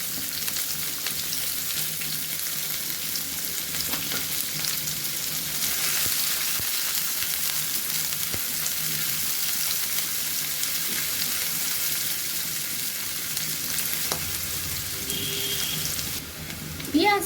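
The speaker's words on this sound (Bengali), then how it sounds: "দুটো তেজপাতা দিয়ে দিলাম। তারপর পেঁয়াজটা আমি দিয়ে দিলাম।" Onions with two bay leaves fry in hot oil, a continuous hissing sizzle that holds steady for the whole stretch, with faint clinks and a small clatter at the very end.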